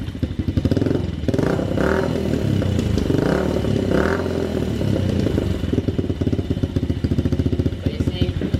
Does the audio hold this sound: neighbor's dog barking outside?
no